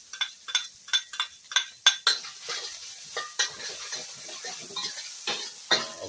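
Minced ginger and garlic sizzle in hot oil in a pan for a Cantonese-style stir-fry, under a string of sharp metal spatula scrapes and clinks. The stirring is brisk at first and then eases off, with no one speaking.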